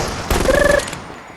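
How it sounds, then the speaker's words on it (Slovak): A short burst of rapid gunfire from a mini submachine gun in the VR shooter Crossfire: Sierra Squad, a tight rattling volley lasting about half a second, then a quick decay. "Takže môžeme ďalej strieľať."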